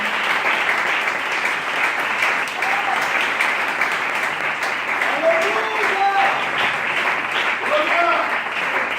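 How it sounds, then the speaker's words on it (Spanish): Congregation applauding at a church service, steady dense clapping throughout with a few voices calling out over it. "Da un fuerte aplauso al que vive, al que reina."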